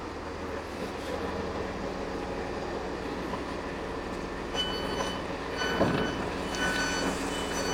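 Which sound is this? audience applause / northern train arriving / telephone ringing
northern train arriving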